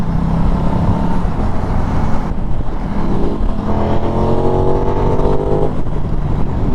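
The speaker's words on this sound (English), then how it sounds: "the induction noise is very nice" An Aprilia Tuono motorcycle's V4 engine roars under load with throaty induction noise, rising in pitch as it accelerates, then shifting and climbing again, close and loud with steady wind rush.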